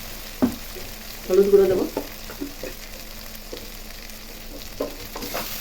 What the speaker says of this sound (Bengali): মশলা ও বাদাম বাটা দিয়ে পটলটা ভালো করে ভেজে নিয়েছি